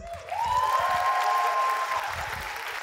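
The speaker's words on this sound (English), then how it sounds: "let's give them a huge round of applause" Applause from a spring a cappella concert audience thanking the concert hall staff, a steady wash of many hands clapping with a sustained whistle riding above it, holding evenly for a few seconds.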